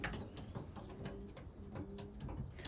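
Young racing pigeons cooing inside a loft, soft repeated low coos overlapping one another close by, with scattered rustles and faint wing or body movements in the background.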